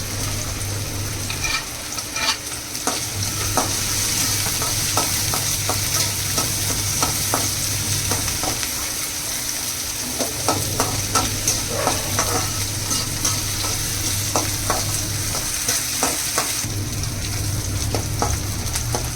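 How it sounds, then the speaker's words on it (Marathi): Green chillies roast in a pan alongside potatoes, a steady close sizzle with repeated scraping stirs over a low background hum. "मिरच्या पण टाकूया मिरच्या पण भाजून घेऊया"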